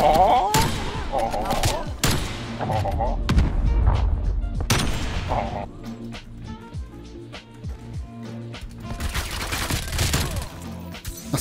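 Small gun firing in Call of Duty, rapid sharp shots in clusters with brief pauses, fairly close amid game effects and occasional talk.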